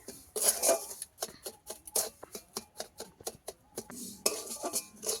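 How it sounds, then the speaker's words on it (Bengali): Semolina lightly frying in ghee in a pan, stirred with a spoon that scrapes and taps the metal in a quick, steady rhythm of close clinks and rustles. "সুজিটাকে ভেজে নিতে হবে হালকা হালকা"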